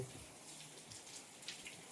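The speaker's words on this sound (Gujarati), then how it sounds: "તમને બતાવી કેવો વરસાદ છે" Soft, steady rain patters continuously outdoors, a faint even hiss with scattered drops and no voices.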